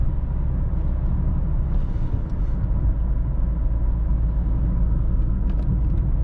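A 129 hp Mercedes-Benz C180 W203 with a six-speed manual cruising through city streets, its engine humming steadily beneath a deep, constant road rumble from inside the cabin, with no sharp revving peaks.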